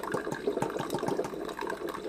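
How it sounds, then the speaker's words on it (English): Water splashes and gurgles while rinsing out the milk frother of a Ninja hot and cold brewed system, an uneven close-up churning of liquid with small bursts of spattering. "Rinse out the frother."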